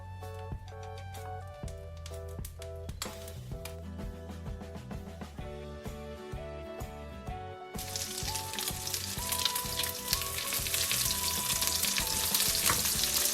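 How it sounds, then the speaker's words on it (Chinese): Eggplant rings filled with minced meat sizzle in cooking oil in a pan under prominent background music, the frying hiss growing louder and denser in the second half. "现在开始煎我们的茄子圈儿"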